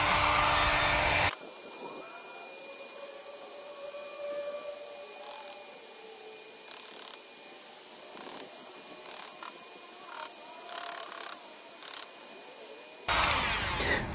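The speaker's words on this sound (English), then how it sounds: "Back to the old heat gun." A heat gun blows hot air to strip pins from a CPU, a steady whooshing roar that stops abruptly, runs quieter for about eleven seconds with small scraping bursts, then roars loudly again at the end.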